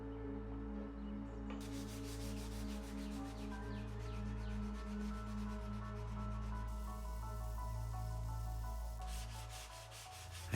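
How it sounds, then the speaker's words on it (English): Sandpaper rubbed by hand over a small wooden guitar pick table makes a soft, continuous scratchy rasp, with regular back-and-forth strokes under a steady low hum and no speech. "I decided to sand the rest of this by hand and restain it."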